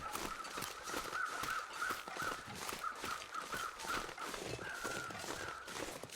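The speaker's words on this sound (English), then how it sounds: "Okay, crows up ahead." Crows caw repeatedly in a video game, a series of short harsh calls over a steady rushing background ambience.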